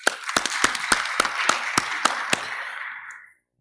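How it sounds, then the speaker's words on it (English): Audience applause for a presenter at an AFRINIC-29 conference session: about nine sharp, evenly spaced claps ring out over a bed of softer scattered clapping, then the applause thins out and fades away. "Let's clap for Mr. House, please."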